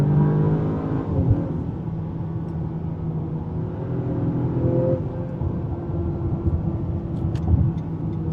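An Acura RDX SH-AWD A-spec accelerating at full throttle, heard from inside the cabin as a loud rising engine roar and whir that climbs, drops briefly at a downshift, then builds again with a steady rumble.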